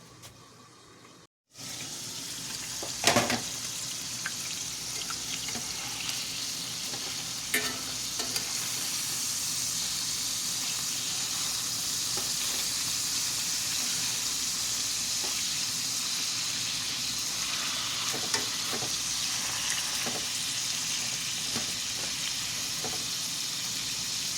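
Food sizzles steadily in a hot skillet over high heat, browning burgers alongside garden produce, a constant loud frying hiss with occasional stirring clicks and scrapes throughout.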